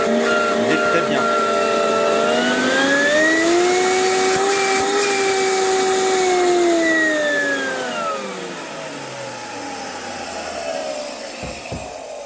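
A 1400-watt vacuum wired to a speed controller runs on a 90-litre sandblasting cabinet. Its loud, steady motor whine rises and falls in pitch, then settles lower near the end.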